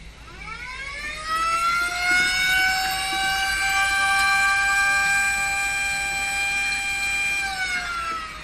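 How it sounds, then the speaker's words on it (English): A loud wailing siren holds a steady rising-then-level tone for several seconds before winding down, close and dominant, with no talk. "Stop it with your siren, man!"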